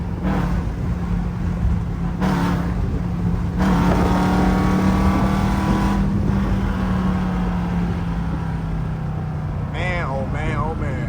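A Jeep with a 5.7 engine and a cold air intake accelerates, a loud sustained engine roar that rises in pitch, heard from inside the cabin while people talk over it.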